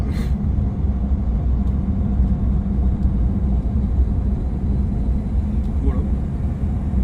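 Steady low rumble fills an airliner cabin at cruising speed on a flight home to England, constant and even throughout, with a faint click or two and no voices standing out.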